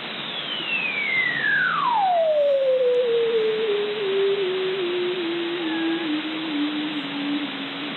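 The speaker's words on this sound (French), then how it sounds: "C'est le phoque barbu, il est en Arctique, mais il a un son très spécial" Male Arctic bearded seal singing underwater: one long, loud, sweeping whistle that glides steadily downward from high to low over several seconds, eerie and electronic-sounding, alone over a constant hiss.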